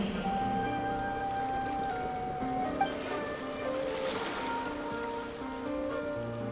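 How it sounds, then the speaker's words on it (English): Ocean waves wash in the Genshin Impact video game, a steady surf hiss with soft sustained musical tones layered over it, no voices. "Go to where you can hear the sound of the waves."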